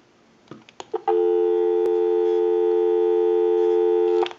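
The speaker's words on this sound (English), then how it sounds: "We'll go ahead and give you some dial tone." Dial tone on a Western Electric 2500 desk telephone under repair: a few handset clicks and bumps, then a loud, steady, unbroken tone that holds for about three seconds before cutting off.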